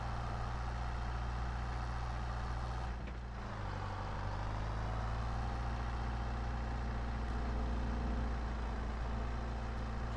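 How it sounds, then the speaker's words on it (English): A Ford 7610 tractor engine idles steadily in the Farming Simulator video game, a low continuous drone with a short dip and rev change partway through before settling back to an even hum. "Tractor, 7610 Ford."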